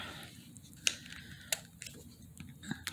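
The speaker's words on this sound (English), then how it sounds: "the first thing I'm going to do is trim off the salvage edge" Scissors snip through the selvage edge of a fat-quarter cotton fabric, with about four sharp, close cuts at irregular intervals over a quiet room background.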